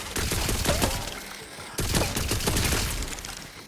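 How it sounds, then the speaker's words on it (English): Ruby Spite gun in Tiny Tina's Wonderlands firing in two quick loud bursts, each a sharp volley of shots with a ringing tail, close and dense. "So the Ruby Spite shoots 3 bullets in a horizontal pattern like this"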